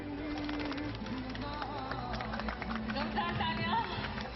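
Pigeons being released coo and flutter amid a busy outdoor crowd at the Kashi Vishwanath Corridor anniversary celebration, with background voices and scattered claps.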